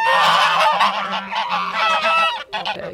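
A flock of geese honks loudly and close by in a dense, overlapping chorus of calls that continues throughout with no pause.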